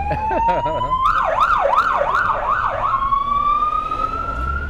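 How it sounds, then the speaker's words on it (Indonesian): An ambulance siren wails loudly nearby on a street in Australia, its rising and falling tone cycling several times before settling into a steady high pitch as it passes. "sorry teman-teman nih, ada ambulan lewat. Berisik."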